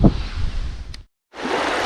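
Rough, low rumbling wind buffets the microphone, broken by a short moment of silence before the gusting resumes.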